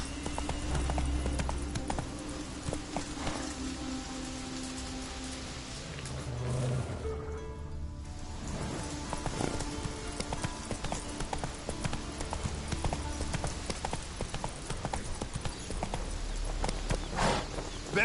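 Hoofbeats of the horse Roach in a video game, a repeated clip-clop rhythm of walking hooves over ambient game sound, with a brief dip midway before the steps resume, fairly close.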